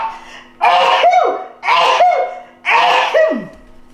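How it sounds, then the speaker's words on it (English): Three loud sneezes from a person in a kitchen while mixing food with pepper, each a sharp burst about a second apart, with a vocal, laugh-like quality. "and I got to sneeze."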